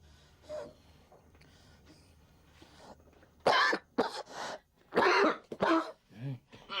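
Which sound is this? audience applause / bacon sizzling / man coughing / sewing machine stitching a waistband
man coughing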